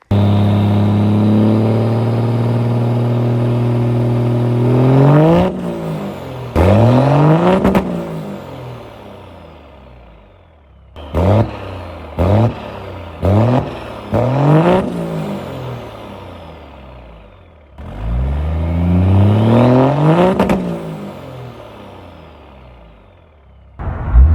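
A modified diesel pickup truck with a 5G build revs hard in several loud bursts with quick drops, then passes by, rising and fading, with no talk over it.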